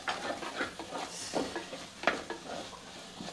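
Okra and dried sardine curry stirred in a pan, with a spoon scraping and clinking irregularly against the metal under a faint sizzle, close and fairly quiet, with no voices.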